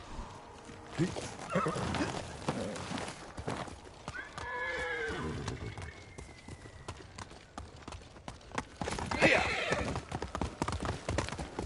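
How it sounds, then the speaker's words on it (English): Hooves clip-clop rhythmically as a horse moves along in the video game Ghost of Tsushima, with a loud neigh partway through and brief talking mixed in. "Horse!"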